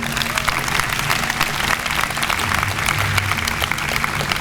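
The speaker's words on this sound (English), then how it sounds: "So again, one more round of applause for them." A student orientation audience gives a sustained round of applause, many hands clapping densely and evenly, with a faint low murmur underneath.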